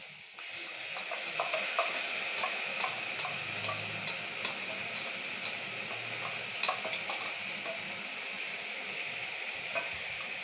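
Spice paste stirred into pumpkin and prawns frying in a pan gives a soft continuous sizzle with small scraping and tapping clicks from stirring, fairly quiet throughout and with no voices.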